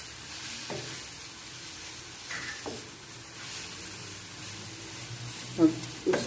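Aloo chicken masala stirred and frying in a pan in a home kitchen in Pakistan, a soft steady sizzle with a few quiet spoon scrapes and knocks, fairly faint.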